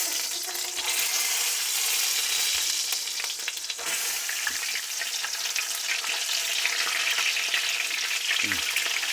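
Mushrooms and tomatoes frying in a pan for a full English cooked breakfast, a steady close hiss and crackle of sizzling oil with occasional stirring clicks throughout.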